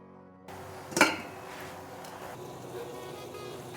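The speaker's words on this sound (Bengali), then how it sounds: "চাপাটা তুলে নিলাম।" A metal lid comes off a pan of Bengali drumstick curry cooked with mustard-poppy paste. There is one close, sharp clink, then a quiet simmer and faint kitchen background.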